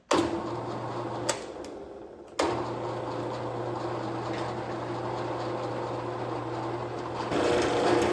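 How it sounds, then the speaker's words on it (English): A drill press hums steadily as the bit cuts through material, a continuous motor whine with a short pause and a few clicks. "let's go ahead and drill the hole"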